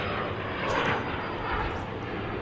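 Delta jet airliners at Detroit's DTW airport, a Delta hub, produce a steady broad roar of aircraft engines, moderately distant and continuous.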